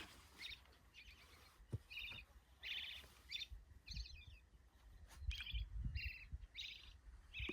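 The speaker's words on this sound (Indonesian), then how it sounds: "Suara burungnya." Birds sing on the slopes of Mount Sindoro in Central Java in the early morning, with repeated short, bright phrases at a moderate distance over a soft rustling, low background and no voices.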